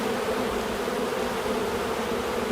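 Honey bees buzzing in an opened beehive during inspection, a dense, continuous droning hum from many bees close by, steady and loud with no voices.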